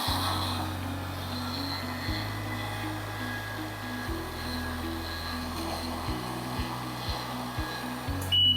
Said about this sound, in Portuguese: nós faremos a utilização de um soprador térmico com uma distância segura